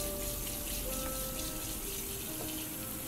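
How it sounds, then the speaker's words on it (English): Water runs steadily from a kitchen tap to wash off a cutting board, a continuous close hiss and splash without pauses and with no voices. "We'll wash off my cutting board, so that way it's ready."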